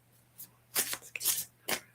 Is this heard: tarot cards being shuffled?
yes